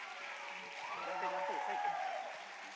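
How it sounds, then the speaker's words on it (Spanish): Audience applause for Antía at the BateaSon 2024 contest, a fairly soft, steady patter of clapping lasting a few seconds, with a voice rising over it midway. "¡Fuerte aplauso para Antía!"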